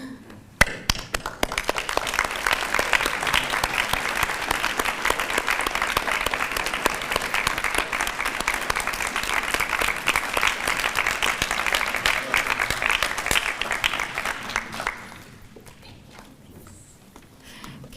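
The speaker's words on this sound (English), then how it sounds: "Can we give another round of applause for all three of our inductees?" The audience at a senior volunteer Hall of Fame award ceremony breaks into sudden, full applause that stays loud and thick for about fifteen seconds, then quickly dies away to a quiet room.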